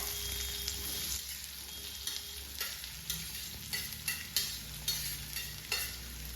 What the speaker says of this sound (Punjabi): ਇਹਨੂੰ ਆਪਾਂ ਭੁੰਦੇ ਜਾਣਾ ਹੈ ਪਿਆਜ਼ ਨੂੰ ਆਪਾਂ ਲਾਈਟ ਬ੍ਰਾਊਨ ਹੋਣ ਤੱਕ ਭੁੰਨ ਲੈਣਾ ਹੈ